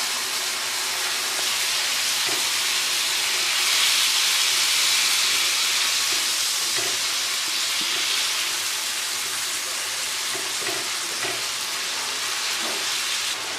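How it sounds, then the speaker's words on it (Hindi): Water poured onto chicken masala on a hot tawa sizzles and hisses loudly and steadily, a continuous close frying roar with faint clinks now and then. "अब इसको हम पानी लगाएंगे ताकि जो मसाले हैं वो अच्छे से पक जाएं"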